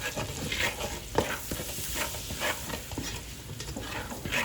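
Butter and half a tablespoon of flour are stirred in a sizzling pan, with continuous scraping and a soft frying hiss running throughout, close and fairly loud, no talking.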